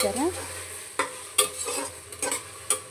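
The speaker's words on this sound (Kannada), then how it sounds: "ಚೆನ್ನಾಗಿ ಎಲ್ಲ ಹಾಕ್ಬಿಟ್ಟು ತಿರುಗಿಸ್ಬೇಕು" Carrot palya stirred in a cooking pan, a few scraping strokes and soft sizzles spaced irregularly, close and fairly quiet.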